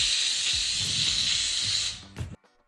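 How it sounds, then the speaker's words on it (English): Steam from a Steamify pressurized handheld steam cleaner gives a continuous, fairly soft hiss up close, ending abruptly with a short clunk as the flow stops. "You'll hear a hissing sound when the steam is coming out"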